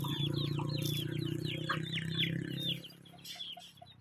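Chickens cluck and chirp while being fed scraps, with short repeated calls over a low steady hum, nearby and moderately quiet; the hum drops away near the end, leaving a few softer clucks.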